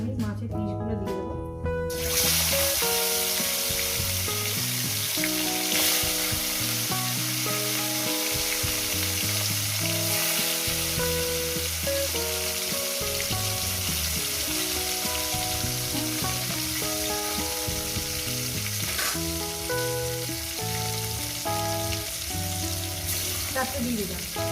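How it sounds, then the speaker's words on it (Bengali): Rohu fish pieces fry in hot oil in a pan, giving a loud, constant crackling sizzle close by, with occasional stirring and a person talking over it. "এবার এক এক করে আমি মাছের পিসগুলো দিয়ে দেবো।"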